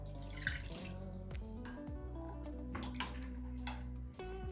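Warm water and oil are poured into a dough mix for fogaça bread, a quiet continuous trickle and splash heard close by without speech.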